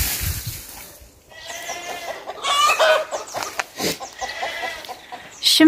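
A chicken clucks and squawks in a garden in bursts of varying loudness, with a few sharp higher cries and quieter gaps between calls.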